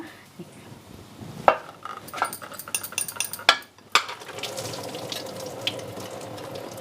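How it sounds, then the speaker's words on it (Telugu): Leftover cooking water is poured off dal boiled in a pressure cooker for a festival meal at home. A few metal clanks come first, then a steady close pouring splash runs to the end. "ఆ వాటరు ఇట్లా వంపుకుంటా ఉన్నా"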